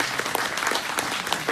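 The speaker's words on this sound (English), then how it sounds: "give them a round of applause for that" A luncheon crowd at a celebration event applauds warmly, with brisk, overlapping claps forming a lively, continuous wash for the whole brief moment.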